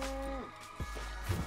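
Cows in Minecraft give a low, drawn-out moo that fades, followed by a few short game noises, close and alone with no talk over it.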